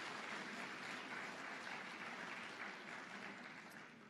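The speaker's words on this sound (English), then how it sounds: "Give yourselves a big round of applause." Audience applause fills a room at a kick-off event, dense steady clapping from many people that holds strong before gradually thinning toward the end.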